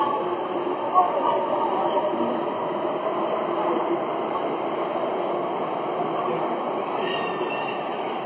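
A Sydney Metro train at Chatswood station gives a steady, continuous rumble and hum, moderately loud and fairly close for several seconds. Faint voices may sit underneath.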